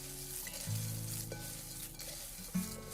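Gluten-free cornflakes are stirred together in a bowl, giving a soft, continuous crackling and rustling with faint scraping, quiet and close, with no one speaking.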